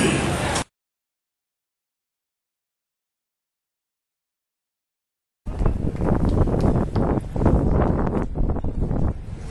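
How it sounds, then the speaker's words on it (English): Strong wind blows hard into a camera microphone outdoors, producing loud, rumbling buffeting in a short burst, then a long silent gap, then several seconds of sustained gusting. "as you can hear on my camera, it's very windy out here"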